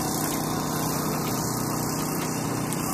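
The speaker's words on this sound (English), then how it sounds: "These are some of the chase boats and such." A chase boat's motor drones steadily and close by at a sailing regatta in Dunedin, a constant mechanical hum with no pauses.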